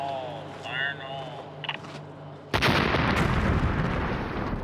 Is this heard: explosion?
yes